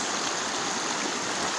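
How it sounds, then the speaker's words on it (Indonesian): A river stream flowing steadily at the confluence of a Gunung Pancar stream with Sungai Cikeas, a continuous broadband rush of water, close and even throughout with no pauses. "saat ini saya berada di pertemuan arus sungai dari Gunung Pancar tadi sama dengan Sungai Cikeas"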